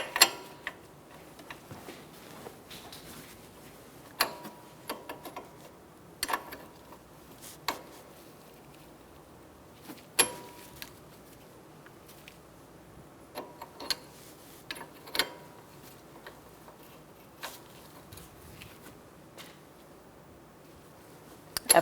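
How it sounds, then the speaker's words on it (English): A 14mm line wrench loosening a brake hose fitting on a 2012-2019 Fiat 500 during a front caliper job, faint scattered metallic clicks and ticks heard close, with quiet gaps between them. "Using a 14mm line wrench, we're going to loosen up our hose"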